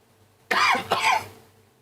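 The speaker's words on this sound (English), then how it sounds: "Hopefully I don't cough too much." A single loud, harsh cough in two quick bursts, close by, with no talking around it.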